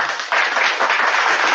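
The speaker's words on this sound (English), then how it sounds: "Round of applause." Brief burst of crowd clapping at a live West Side hip-hop show, a dense wash of hands that swells after a short pause and stays loud to the end.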